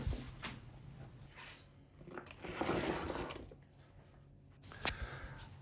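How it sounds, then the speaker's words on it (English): Water is poured into a large saucepan holding stock cubes and roughly chopped vegetables for a spicy lentil soup, giving a soft, close liquid splash and gurgle that swells in the middle, with a few light knocks and no talk. "Put 2 litres of water in a large saucepan and add the stock cubes and the roughly chopped vegetables."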